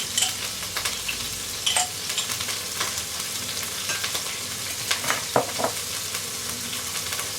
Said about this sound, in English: I'm just going to let that brown up a little bit. And to the onions I'm going to add some garlic in there with it.